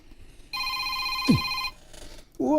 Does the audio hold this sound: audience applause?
no